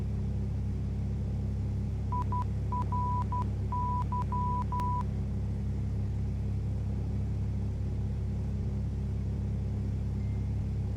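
A phone plays a Facebook Messenger notification: a quick run of short, clipped electronic beeps. It sits over a steady, loud engine drone from a flight game playing in the background.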